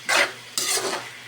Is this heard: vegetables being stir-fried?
yes